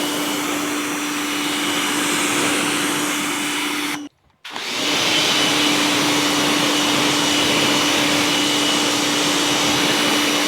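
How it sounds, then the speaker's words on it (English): A Prunarbo pressure washer gun with foam cannon sprays in a loud, steady hiss with a constant whine, cut off briefly by a short pause before resuming at full force. "the sprayer is working good"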